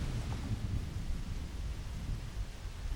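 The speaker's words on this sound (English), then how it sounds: "Thunderstorms." Thunderstorm during a cutscene in the video game Ocarina of Time, heard as a steady low rumble with rain-like hiss that holds at an even loudness for the whole stretch.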